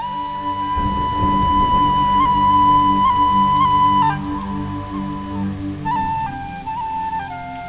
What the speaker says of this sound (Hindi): मुझे पूरा विश्वास है कि बारिश आएगी। लो आ गई।